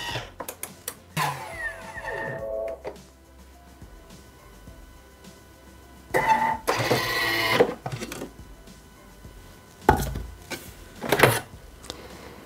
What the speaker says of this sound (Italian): azionare il bimby per 10 secondi a velocità 10